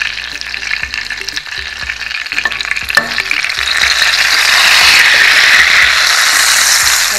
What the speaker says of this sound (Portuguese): está fritando bem douradinho